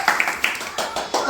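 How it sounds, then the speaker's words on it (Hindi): A few people clap in short bursts at a small home gathering as a gift is handed over, close and uneven with brief pauses between the rounds of claps. "तालियां।"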